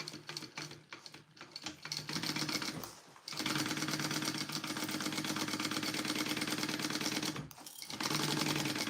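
A sewing machine stitches the base seam of a tote bag, starting with a few short stop-start bursts, then running in long steady whirring runs broken by one brief pause, close and clear.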